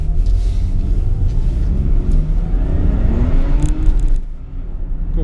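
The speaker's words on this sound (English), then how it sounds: "Completely spinning wheels." A 1988 Nissan Cefiro spins its wheels on old tires, a loud, close engine roar and rumbling whir that holds steady for about four seconds before dropping away abruptly.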